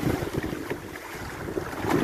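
Wind gusts buffet a boat off Koh Samui, a steady breeze roaring against the microphone with soft wave wash beneath and brief stronger surges.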